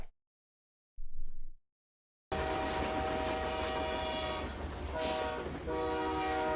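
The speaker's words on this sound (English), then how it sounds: "That sounds really good, that train." A train in Euro Truck Simulator 2 sounds its horn in a loud, sustained blast over a rumbling rolling-stock drone, after a short muffled burst and a stretch of silence.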